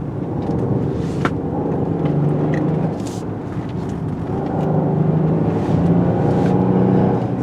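A 2022 Genesis GV70 SUV with all-wheel drive and big tires driving on wet, curvy roads, its engine humming and surging under acceleration with tire and road noise through the cabin, no talk.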